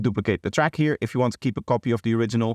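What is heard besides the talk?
None of the usual background noises is heard.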